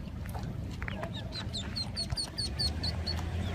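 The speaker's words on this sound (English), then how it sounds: "Look at all the ducks coming over." Ducks quack repeatedly in a quick, uneven run of nasal calls as ducklings jump from a rooftop in New Jersey, set against a steady outdoor background hum.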